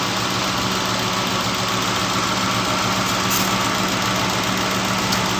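A car engine idling steadily up close, a continuous loud rumble with an even low throb and faint mechanical rattle throughout, no voices.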